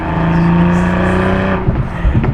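A manual Toyota GR Supra sports car accelerates hard up a mountain pass. The engine's note climbs steadily and loudly up close, then breaks off abruptly as the driver shifts gear, with some rumble after.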